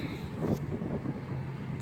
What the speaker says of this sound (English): And it's getting windy out.